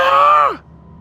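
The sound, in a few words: scream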